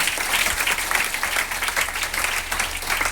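An audience gives dense, sustained applause, a steady wash of many hands clapping throughout, moderately loud and without pause.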